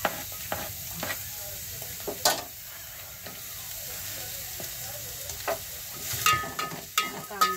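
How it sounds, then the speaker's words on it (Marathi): Onion fries in refined oil in a pan, giving a soft steady sizzle broken by sharp spoon scrapes and clinks. It is close and fairly quiet, and nobody speaks. "याच्यामध्ये मी कांदा टाकणार आहे."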